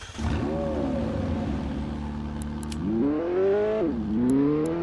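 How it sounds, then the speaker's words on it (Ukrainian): A McLaren engine in the Drive World video game revving up and down in a few sweeping pulls, rising and falling in pitch, loud and clear with no talking over it. "Отакий звук був у тої Макларен з підтейла."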